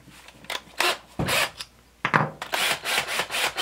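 Drill bit boring a hole through a metal jar lid with the dimple facing up, run under light weight; several rasping, grinding bursts with brief pauses between, close and fairly loud, no talking.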